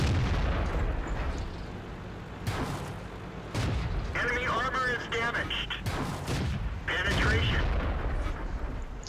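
Tank cannon shots in World of Tanks from a Ram II medium tank in battle; a few heavy booming blasts ring out over a constant low engine rumble, with someone talking over them.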